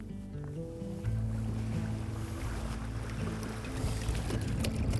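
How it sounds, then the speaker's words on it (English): A small motor drives a fishing kayak along the coast near Palm Coast and Flagler beaches, running as a steady low drone under wind and water noise. "I got the motor going, covering ground and looking."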